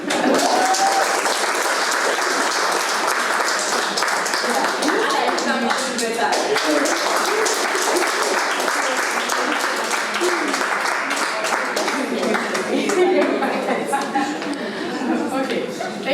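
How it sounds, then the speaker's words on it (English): Sustained audience applause fills the room at an archaeology talk, dense steady clapping at full loudness throughout with faint chatter and chuckles mixed in. "Let's give her a round of applause as she takes her seat."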